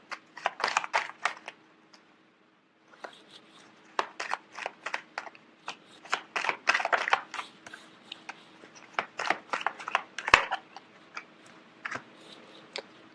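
Quick bursts of crisp tarot card riffling and flicking, in irregular clusters with a short pause early on, fairly close and quiet, no talking.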